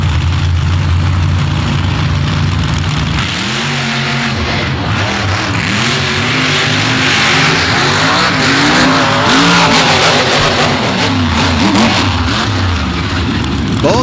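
Drag race cars launch down the strip at Dragway 42 during the 2023 Throwdown Kickoff, a loud, continuous high-revving engine roar with rising and shifting pitch that fills the whole stretch.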